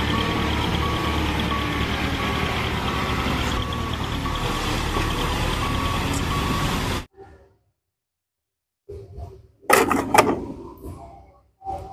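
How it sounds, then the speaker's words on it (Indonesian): A sand truck engine rumbles with repeated reversing beeps for several seconds, then cuts to silence followed by scattered mechanical clunks and bursts. "Di sini ada mobil truk pasir"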